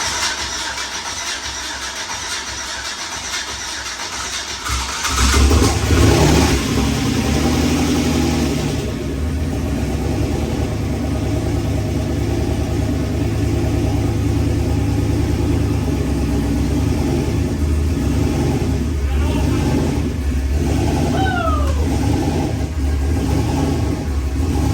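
Turbocharged 5.3 V8 cranking, firing up about five seconds in and settling into a loud, lumpy idle with a few blips of revving later on.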